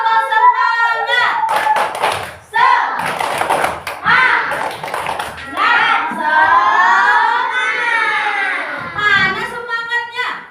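Schoolchildren perform the tepuk semangat clapping routine in a classroom, with rhythmic bursts of hand claps and slaps mixed with a teacher's voice and children chanting along, loud and close.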